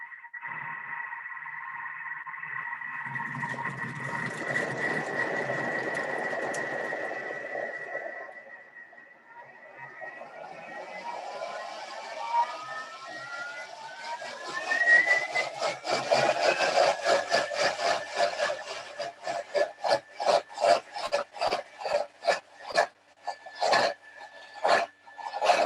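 A Thermomix blends baby food at speed 4 with a steady, whining motor hum and a whirring churn, later breaking into rapid choppy pulses as the blades work through the mixture.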